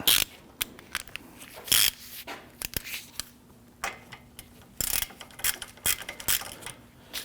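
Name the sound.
socket ratchet turning bolts on a Ford Taurus wheel hub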